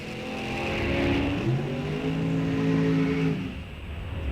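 A pair of drag racing motorcycles, one a 1978 Kawasaki, launch off the line at a drag strip, engines revving hard and rising in pitch as they pull away, loud and continuous over a few seconds.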